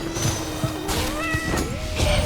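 A cat meows in the video game Hades 2, a few short mewing calls with rising and falling pitch over a steady background tone and game sounds.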